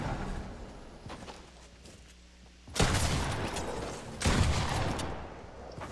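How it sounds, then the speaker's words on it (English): Shotgun blasts in a battle royale video game: two loud, broad booms a second and a half apart, each ringing out over a busy background of game noise and faint footsteps. "This shotgun is brutal"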